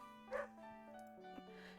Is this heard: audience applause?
no